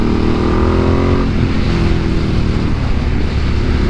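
Loud, steady engine roar from a 2025 Ducati Panigale V2 motorcycle out riding in road mode, with the pitch dropping slightly partway through as it eases off, no talking.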